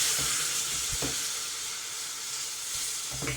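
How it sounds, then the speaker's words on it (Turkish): Cold water poured slowly into roasted tarhana mixture in a hot pot makes a steady, close sizzling hiss, with a few soft knocks of stirring. "Bunları da kavurduktan sonra soğuk suyu yavaş yavaş ilave ediyoruz."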